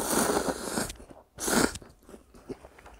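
Someone eating Nongshim Shin Ramyun The Red spicy instant noodles, with two close, loud slurping bursts followed by quieter chewing and small mouth noises.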